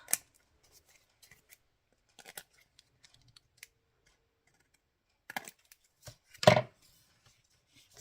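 Scissors make sparse, sharp snips through card paper, cutting out pieces with several faint clicks and a louder cut near the end, mostly quiet in between.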